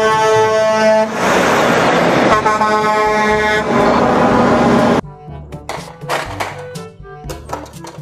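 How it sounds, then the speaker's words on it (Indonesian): A loud, sustained air horn from a toy Mack container truck blares for about five seconds, then cuts off into a jumble of lighter clanks and tones. "Mobil kontainer Mack"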